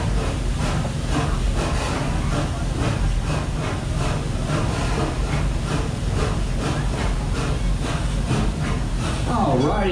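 A steam train carries riders through Busch Gardens Tampa, its steady rolling clatter and hiss continuous and close, with a regular rhythmic beat throughout and a brief squeal near the end.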